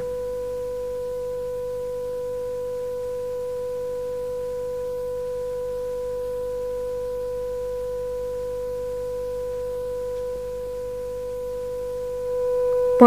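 Two steady pure tones at the same pitch and equal strength sounding together as one clean, unwavering hum, with a brief click at the very end.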